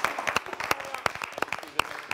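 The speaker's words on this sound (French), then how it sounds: "Ok, on peut les applaudir, c'est très bien." Scattered hand claps from a small audience greeting students on a French TV talent show, uneven and fairly close, with a voice talking over part of it.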